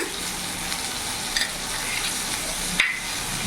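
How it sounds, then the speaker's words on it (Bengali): Ginger, garlic and green chilli paste with Kashmiri chilli powder fries in a pan for a mrigel fish curry, making a dense, even hiss close up with a couple of brief utensil taps, and no one speaking. "এবার সিম আছে, আমি মশলাটা ভালো করে কষিয়ে নেব।"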